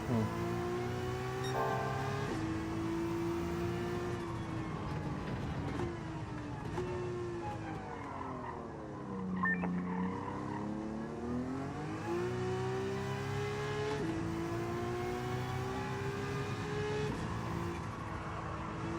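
A race car engine in Gran Turismo 7 revs continuously, its pitch rising and falling as the throttle is worked through corners, with faint tyre scrubbing underneath. It sounds close and steady.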